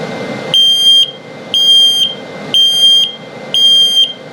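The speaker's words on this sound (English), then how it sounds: "And then the low battery alarm." An RV carbon monoxide and LP gas detector sounds its low-battery alarm: four loud, evenly spaced high-pitched beeps about one second apart, each lasting half a second, with no talk.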